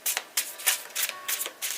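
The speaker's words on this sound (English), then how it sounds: "Alright, do 3 shuffles." Tarot cards being shuffled by hand, heard as a run of crisp, close riffling bursts in a quick repeating rhythm with short pauses between.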